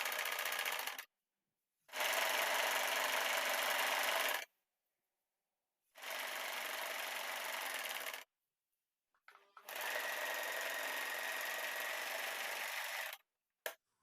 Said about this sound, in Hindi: फैब्रिक को हम अंदर की तरफ फोल्ड करेंगे और सिलाई लगाते जाएंगे।